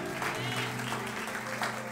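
A church congregation claps in steady, moderately loud applause throughout, with no voices over it.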